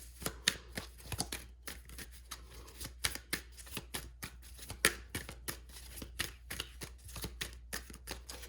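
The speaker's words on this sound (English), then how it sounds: "they want me to cut the deck for this one" A deck of tarot cards is shuffled by hand with repeated sharp riffling bursts and card snaps, close and fairly quiet, with no talking.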